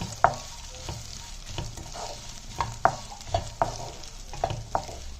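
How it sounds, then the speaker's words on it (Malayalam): Fried okra and ginger being stirred in a hot pan, repeated rhythmic spatula scrapes and clacks over a continuous low sizzle, close and clear. "ഇനി ഇതിന്റെ കൂടെ ഞാൻ ഈ മൂപ്പിച്ച് വെച്ചിരിക്കുന്ന വെണ്ടയ്ക്ക കൂടെ ഒന്നും കൂടെ ഇട്ട് കൊടുക്കുക."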